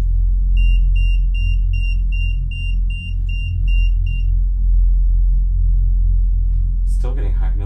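An EMF detector beeps in a rapid, even series of about a dozen high tones for several seconds over a loud low rumble inside an old house, and a voice is briefly heard afterward.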